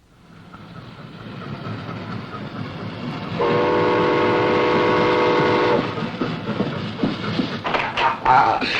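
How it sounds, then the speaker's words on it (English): A train approaches a livestock loading platform, rumbling in gradually louder, then a long sustained horn blast, followed by heavier rolling clatter and hissing as it draws near; voices murmur faintly beneath. "Train's coming in."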